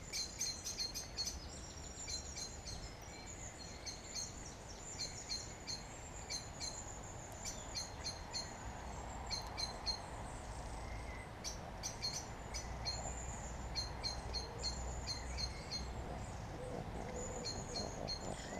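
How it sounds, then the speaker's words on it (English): Birdsong from trees in a quiet green space near Birkenhead town centre, with long-tailed tits, blackbirds and a magpie calling: faint, scattered high chirps and tweets repeating over a soft outdoor background, with no talking. "There's some long-tailed tits up there."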